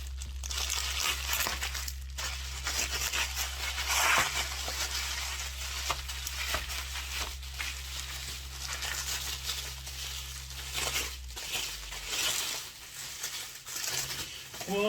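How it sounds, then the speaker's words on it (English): Bubble wrap being pulled out of an eBay parcel, with steady crinkling and crumpling plastic rustles and occasional sharper crackles over a constant low hum. "Oh, so much bubble wrap."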